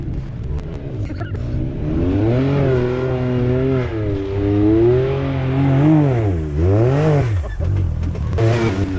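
A side-by-side off-road vehicle on an overland campout pulls away, its engine rising and falling in pitch through repeated revs, loud and close throughout with a brief dip near the end.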